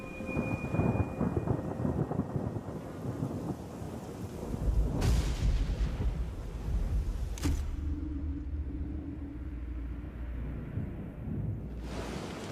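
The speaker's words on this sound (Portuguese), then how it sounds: "Chuva. No meu mundo, a chuva é algo que aprecio." A thunderstorm on the Serengeti, with steady rain and several loud, close thunder cracks and rolling rumbles, heard alone with no voices.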